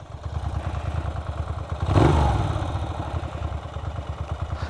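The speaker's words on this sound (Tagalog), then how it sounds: "So ito sound check niya mga master. Dalawang muffler." Ducati Monster motorcycle with twin mufflers, a steady throbbing idle that swells into a single sharp rev, then settles back to a fast even lope, close and loud with no talk.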